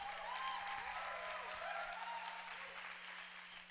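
A church congregation claps in a steady wash of applause, fairly faint and distant, with a low hum underneath and a voice speaking over it.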